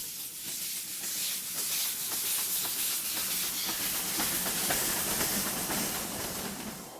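Steam locomotive of the Tren Crucero in Ecuador, on the final leg to Durán, hissing loudly and steadily with a rhythmic chuffing and clatter of wheels running close by, with no voices.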